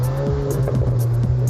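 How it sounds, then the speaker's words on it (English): A 2021 Volkswagen Arteon R fastback with 320 horsepower and quad exhausts accelerating out of a corner, giving a loud, close, steady engine drone with a brief tire squeal. "One of the new Arteon R's distinguishing marks, the quad exhausts producing the kind of exhaust note you want to hear."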